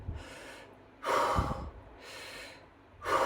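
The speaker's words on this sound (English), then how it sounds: "you're breathing in and out rapidly in quick succession for 30 breaths" Rapid deep breaths during an anxiety-relief breathing exercise, alternating strong inhales and exhales in a quick steady rhythm, close and loud with no talking.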